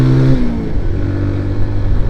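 Loud kit car engine accelerating hard toward 6000 RPM in second gear, a continuous close rising roar with a brief gear-related pitch drop at the start.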